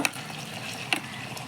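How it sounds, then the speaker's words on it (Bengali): Potatoes fry in a cooker with a soft, brief sizzle, marked by two quick utensil clicks near the start and just before the end, close but quiet. "কি সুন্দর কুকারটাতে আলু ভাজা হচ্ছে দেখো"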